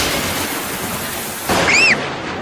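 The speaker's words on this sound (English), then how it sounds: "the thunder bangs are very loud" Thunder in a cartoon thunderstorm: a sudden loud broadband bang cuts through steady rain-like hiss, followed by brief high whistling tones.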